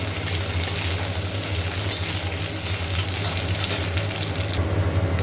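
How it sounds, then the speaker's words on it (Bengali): Potatoes frying in oil tempered with nigella seeds give a constant, dense sizzle close by, steady and unbroken from start to finish with no voices. "কালো জিরে ফোড়ন দিয়ে আলুগুলো দিয়ে দিয়েছি একটু ভাজা ভাজা হবে"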